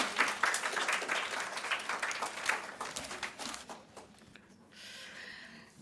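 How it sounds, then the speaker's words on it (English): Colleagues at a workshop session applaud a group presenting on working from home, with moderate scattered clapping that fades after about four seconds into quiet room noise. "A round of applause, colleagues."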